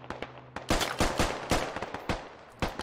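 Gunfire cracks in the video game Squad as enemy rounds land close around a crawling soldier: a string of sharp, loud shots in irregular bursts, some clustered, all close.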